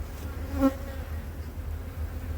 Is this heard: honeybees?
yes